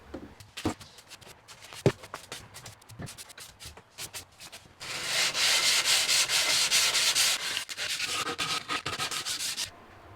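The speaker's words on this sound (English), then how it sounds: "Now I'm gonna try to get the edges sanded on all this stuff and then get it stained." Wood board edges are sanded by hand inside a truck being converted into a studio apartment; scattered rubs and taps lead into several seconds of loud, rhythmic, close sanding strokes before it stops.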